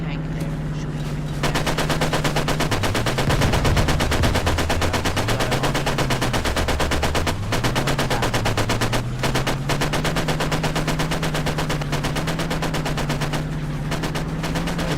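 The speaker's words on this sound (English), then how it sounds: "We have an enemy tank there shooting you." Tank and gunfire in the WWII Online video game: sustained rapid automatic fire rattling continuously over a droning engine rumble that rises and falls, loud throughout, with a few heavier blasts mixed in.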